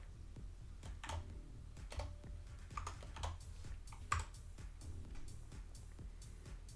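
Fingers type on a computer keyboard during a programming session, rattling out quiet, steady, uneven clicks and taps at close range with no voices.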